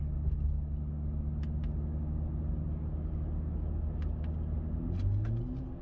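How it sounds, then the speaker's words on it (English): A car fitted with a Pedal Commander throttle controller accelerates in city traffic, a steady, close, low engine rumble from the cabin that rises slightly in pitch toward the end, with a few faint ticks over it. "I got my foot accelerating."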